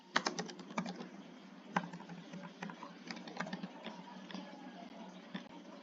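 Steady, quick keystrokes on a computer keyboard, close and soft, with a light pattering rhythm and a few louder taps, over a faint background hum.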